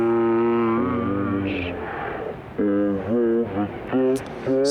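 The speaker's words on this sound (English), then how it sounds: "So I grabbed a little loop off of that and pitched it down" A cappella vocal loop sampled from a record and pitched down to half speed, heard alone as slow, deep sustained sung phrases with pauses between them.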